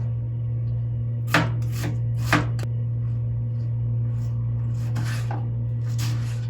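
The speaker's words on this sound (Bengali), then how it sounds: "তো পেঁয়াজগুলো কেটে নিয়েই বাকি রান্নাটা কমপ্লিট করবো" Onions being chopped with a knife on a board in a home kitchen while cooking a fish curry with potatoes and stalks, several sharp knife strikes in short bursts over a steady low hum.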